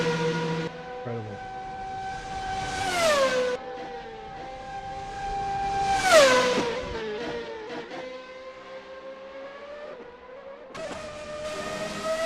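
Formula-style race car engines in an online racing simulator, Formula Alpha 2022 and Formula Beta 2008, scream through repeated rev climbs and upshifts, high-pitched and continuous, with other cars passing.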